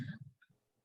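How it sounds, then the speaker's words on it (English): A single short, loud sneeze right at the start, then faint breathy sounds trailing off quickly. "I have been feeling that sneeze since we first started"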